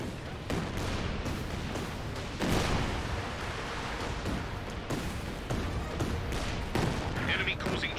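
Land Mattress rocket artillery fires in the strategy game Company of Heroes 2, a dense, sustained barrage of launches and blasts rolling on without a break, with a few sharper surges.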